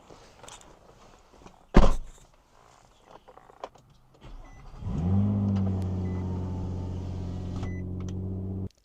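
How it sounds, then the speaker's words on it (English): The power window of a Nissan Altima 3.5 coupe opens with a steady motor whine that runs for several seconds to the end. A sharp thump and faint footsteps come before it. "The window's opening"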